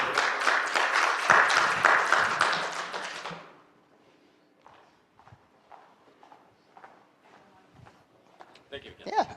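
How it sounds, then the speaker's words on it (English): Dense clapping from an audience at a Rotary Club meeting, honoring a speaker, fills the first few seconds before fading away, leaving quiet scattered talk and movement in the room. "So with that, can we have a round of applause for Steve?"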